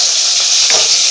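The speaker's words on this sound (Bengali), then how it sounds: "পাঁচফোড়ন দিয়েছি তেলে" Panch phoron five-spice seeds sizzle in hot oil in a home kitchen pan, a loud, close, steady hiss with no talking.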